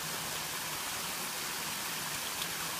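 Waterfalls in a park give a constant, even broadband rush of falling water, loud and steady throughout with no talk.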